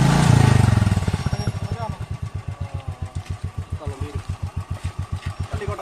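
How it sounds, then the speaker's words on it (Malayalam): Royal Enfield Bullet motorcycle engine thumping steadily as it rolls slowly downhill on a mountain track at night, close and clear, a rev dying away into an even idle-like beat. "അപ്പോൾ നമ്മുടെ ബുള്ളറ്റ് താഴേക്ക് പോയിക്കൊണ്ടിരിക്കുകയാണ്."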